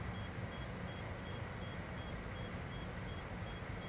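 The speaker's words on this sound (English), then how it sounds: "Gonna idle this out so we can get out of overspeed and quit hearing the beeping" Overspeed warning beeping in a Citation X cockpit in Microsoft Flight Simulator 2024: a faint, evenly spaced high beep repeats steadily over a constant broadband rumble of engine and wind noise, with no one talking.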